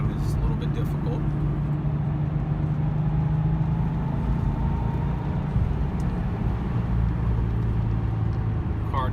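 Porsche 911 993 with a manual gearbox cruising on a road, a steady low engine drone and road rumble filling the cabin throughout, with a voice talking over it.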